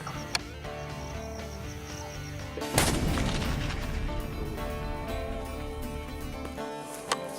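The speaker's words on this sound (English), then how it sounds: "Very good shot, actually." A single rifle shot booms sharply during a hunt in Tanzania, loud and close with a rolling echo that trails off over several seconds against faint outdoor background.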